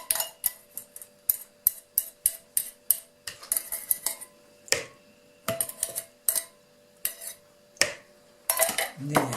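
A utensil clinks and scrapes against a bowl while pumpkin cake batter is mixed, a quick irregular run of sharp metallic taps with short pauses, close and distinct, no talking.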